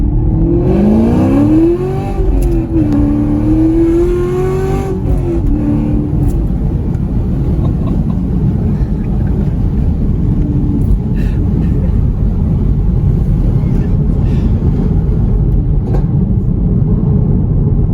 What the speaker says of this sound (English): Was that a backfire?